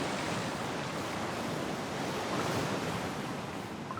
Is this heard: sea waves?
yes